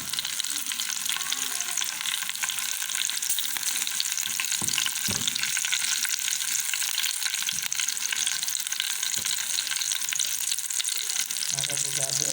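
Garlic frying in oil for a mung dal tempering, a loud, constant close sizzle with a few soft knocks and clinks of a utensil against the pan, no talking.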